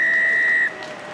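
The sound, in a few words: referee's whistle ending a rugby match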